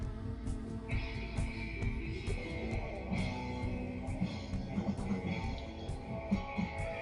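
Rock music plays fairly quietly, with distorted guitar, bass and drums in a steady groove, somewhat distant in the room.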